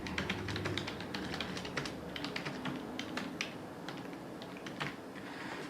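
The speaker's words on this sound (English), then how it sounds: "So that's just using this physical keyboard to type." Fingers type rapidly on a physical keyboard connected to an MVPower MX3 Android TV box, producing a close, continuous patter of crisp key clicks with no talking.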